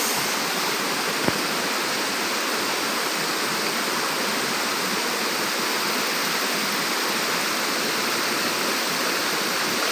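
A nearby river flows steadily, producing a dense, even rushing hiss of water that stays constant throughout with no voices.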